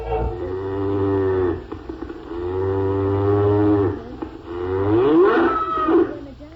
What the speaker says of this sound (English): The gingerbread man knew at once that this must be a cow.